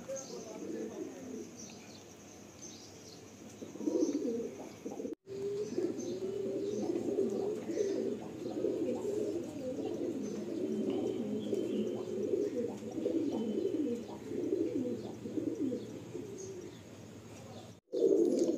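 Paired pigeons coo continuously in overlapping low, rolling calls, close and steady, with a brief gap part way through.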